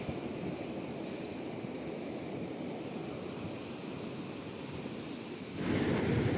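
Ocean waves on a black-sand beach where a river meets the sea at Itacaré, Bahia, a steady distant wash of surf that swells louder near the end, with some wind.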